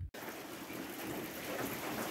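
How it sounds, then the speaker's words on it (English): Heavy rain pouring steadily onto a tiled roof and porch, a dense, continuous hiss of close, loud downpour after a brief silent gap at the start. "it's pouring"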